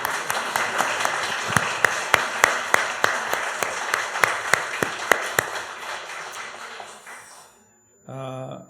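A church congregation at a Sunday morning service claps in thanks for one another, a dense round with sharp, evenly spaced claps standing out. It dies away, and a voice begins speaking after a short pause.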